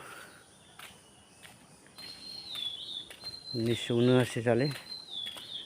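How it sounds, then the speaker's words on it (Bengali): Birds calling near a pond and old house gate, with a thin high chirping repeated through the scene over an insect hum, under someone talking close by. "তাই এই যে একটা পাখি ডাকছে, এই যে আরেকটা পাখি"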